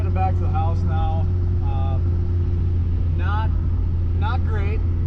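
A Mercury Comet with an old inline-six engine drives along with a steady, low engine drone from inside the car, while people talk loudly over it throughout.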